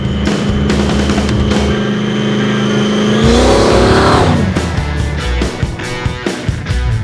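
Big block Chevy V8 with a supercharger in a 1971 Holden Monaro GTS, rumbling loud and close, then revving with a rising whine that swings up in pitch before dropping back to a rough, lumpy idle.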